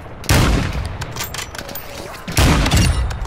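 Rapid automatic gunfire bursts in a first-person shooter game, loud and close, two heavy volleys separated by a quieter stretch of battle noise.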